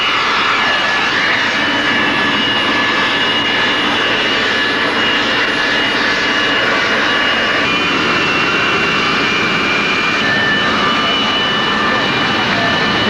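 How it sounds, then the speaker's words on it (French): A Boeing 737 jet airliner of Mali's national airline gives a loud, steady engine roar with a high whine that runs unbroken from start to finish. "un 737 de la compagnie nationale aérienne du Mali"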